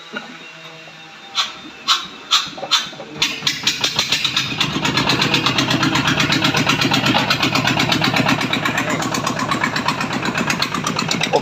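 A heavy dump truck engine with no exhaust pipe cranks with a few sputters, then catches and runs loud and raw, a fast throbbing rattle with no muffling.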